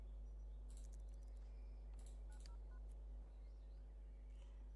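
A phone in a life-simulation video game dials a service call to summon a gardener, giving short electronic keypad tones in quick bursts over a steady low background hum.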